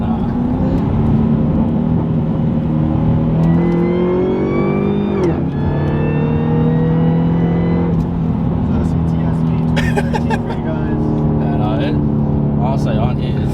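A 600-horsepower 2013 Cadillac CTS-V accelerates hard, its engine climbing steadily through the revs with abrupt, firm gear shifts, heard loud from inside the car under people talking.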